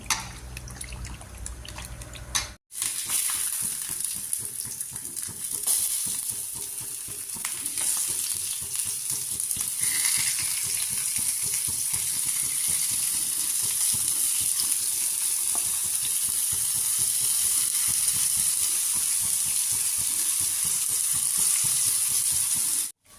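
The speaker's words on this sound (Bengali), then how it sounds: "তেলা হইতেছে চালি কুমড়া, একটু ভাজি করি, হলুদ দিয়ে লবণ দিয়ে মাখায়।" Ash gourd pieces coated with turmeric and salt fry in oil with a loud, continuous close-up sizzle that holds steady after a short cut near the start, with faint stirring scrapes now and then.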